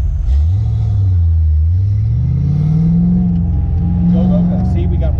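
A Foxbody car accelerating on an autocross course, heard from inside: a loud, steady engine drone rising and falling in pitch with throttle, with a person talking over it.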